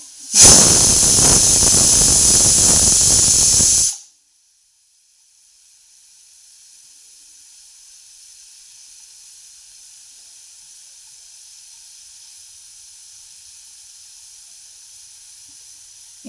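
Loud, close hiss of steam from a pressure cooker whistle while dal is cooked in a kitchen, a harsh blast for about four seconds, then cutting off to a faint, steady background hiss.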